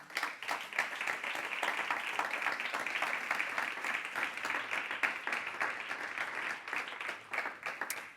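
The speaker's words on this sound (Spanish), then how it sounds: "Den un aplauso al Señor" A church congregation at a Sunday service bursts into sustained applause, dense and even claps filling the whole stretch without any speech over it.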